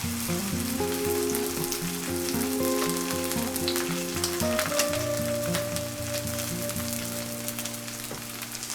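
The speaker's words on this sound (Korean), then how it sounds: "밀가루 풀에 척척 앞뒤로 이렇게 담갔다가 네, 또 후라이팬에 넣어줍니다" Aged kimchi pancakes dipped in flour batter fry in a frying pan with a loud, steady, rain-like sizzle and crackle that continues throughout, over a faint tonal background.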